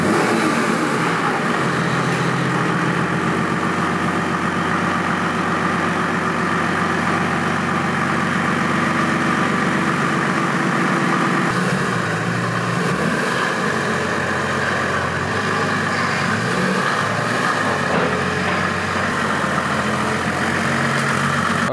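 A 1973 Mercedes W108 fitted with an OM606 diesel engine runs loudly and steadily close by, its rough diesel drone shifting midway as the revs change, with no voices.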